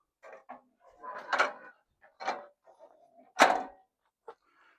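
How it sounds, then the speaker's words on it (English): RV entry steps on a Grand Design Transcend Xplor travel trailer being released and let down, giving a series of short metallic clunks and rattles over a few seconds, close and fairly clear, with no speech. "Pull this release and let your steps down."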